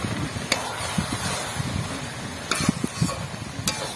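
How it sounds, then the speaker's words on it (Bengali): Carrot halwa with cashews and raisins stirred using a round ladle, thick mushy scraping with a few sharp knocks of the ladle against the pan, close and moderately loud. "এখন এখন ভালো করে নেড়ে নেবো"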